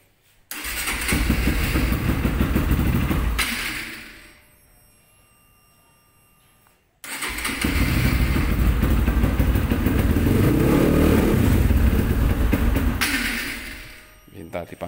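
Modified motorcycle engine fitted with a widened CB150R throttle body starting up and running loudly, cutting out for a few seconds, then restarting and idling roughly before revving and fading near the end.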